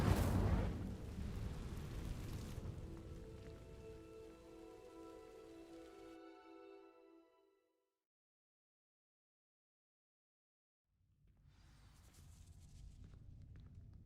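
In Hogwarts Legacy, the Incendio fire spell is cast on vines. A roaring burst of flame rumbles and crackles, then fades into a ringing magical shimmer, followed by silence and a soft return of ambient noise.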